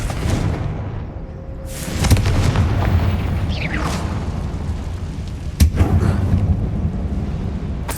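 A Confringo spell blast goes off in Hogwarts Legacy inside a closed, tomb-like mine. One loud boom lands at about two seconds and a second sharp burst follows later, both over a steady rumbling background.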